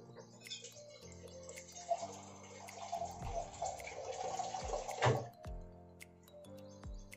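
Water poured into a pot of cooked vegetables on a home stove, a steady splashing pour lasting a few seconds amid kitchen clatter and a few knocks, with background music tones.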